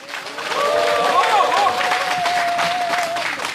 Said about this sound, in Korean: 여러분들의 힘찬 박수로 오늘 수요 집회를 시작하겠습니다